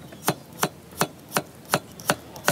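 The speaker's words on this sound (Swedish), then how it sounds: "Tänkte jag faktiskt börja med potatisen. Så bara skiva ner den," A knife slices potatoes on a cutting board for Moroccan fish parcels, seven crisp, evenly spaced chops about a third of a second apart, close and clear with no voices.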